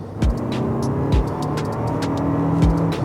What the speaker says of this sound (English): The engine can drone a little bit under hard acceleration, but it's fine.